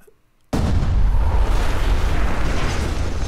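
A mortar shot in a tabletop wargame: after a brief quiet moment, a sudden loud boom breaks into a sustained, rumbling blast that fills the rest of the clip, with no talk.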